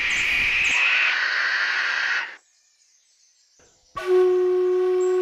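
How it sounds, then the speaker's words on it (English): A masked owl, a large Australian owl, gives a long raspy hissing screech. A short silence follows, then a loud tonal, harmonic call starts abruptly and holds near and strong. "Masked owls are amongst the largest and the most powerful owls in Australia."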